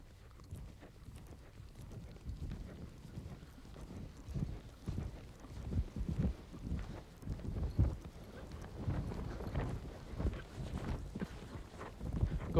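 A horse cantering over show jumps, a vertical and an oxer, in an equestrian schooling session, its hoofbeats a steady clip-clop rhythm with some wind noise against the microphone, moderately close and without speech.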